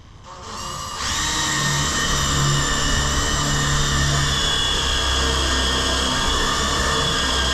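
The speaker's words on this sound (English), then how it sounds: "I'm just going to pre-drill it." A power drill pre-drills a hole for a bolt through a clamped bar, its motor spinning up within the first second and then holding a loud, steady whine close by.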